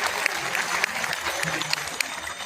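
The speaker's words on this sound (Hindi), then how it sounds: "ताली बजाकर सम्मान कीजिए।" Audience applause at a Hindu devotional Ram katha discourse, a steady dense clapping from a crowd that holds for the whole stretch without a voice over it.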